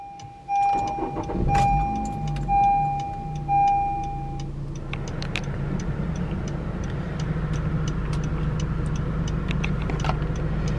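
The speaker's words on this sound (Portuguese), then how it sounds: "Vamos ligar o veículo para vocês conferirem." A 2014 Honda Civic LXR 2.0 flex automatic sits with a steady electronic warning chime sounding, then the engine cranks and fires after a few seconds and settles into a smooth, even idle heard from close by.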